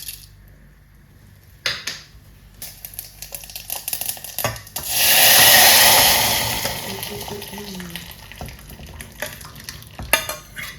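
Mustard seeds and red chili hit hot oil in a pan, giving a loud hissing sizzle that swells for a couple of seconds mid-way, with scattered clinks and stirring scrapes before and after.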